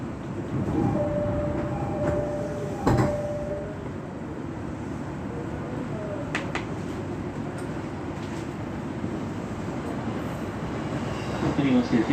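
An E217 series train, car KuHa E217-23, runs as a temporary rapid service bound for Soga, heard from inside with a steady rumbling drone, a loud clunk near the start and faint tones, with brief voices.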